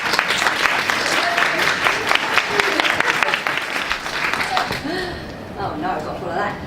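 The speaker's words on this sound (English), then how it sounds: "big round of applause please" An audience at a fundraising talk breaks into sustained applause, a dense wash of clapping that tapers off over the last couple of seconds as talk begins.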